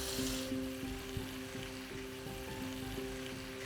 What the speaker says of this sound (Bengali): আর এপাশে দেখুন তেলটা এতক্ষণে ভালো করে গরম হয়ে গেছে। এই আলুগুলোকে এখানে আমি ডাইরেক্টলি দিয়ে দিচ্ছি।